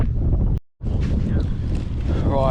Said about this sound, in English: The wind has changed direction, so it's very windy.